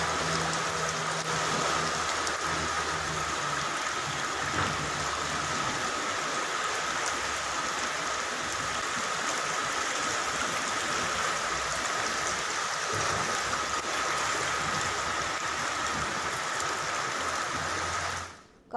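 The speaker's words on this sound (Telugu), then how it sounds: "కుండపోతగా వర్షం కురుస్తున్న పరిస్థితి మనం చూస్తున్నాం" Steady, dense downpour in Hyderabad roars evenly throughout, a continuous broadband hiss of heavy rain with no voices, cutting off abruptly at the very end.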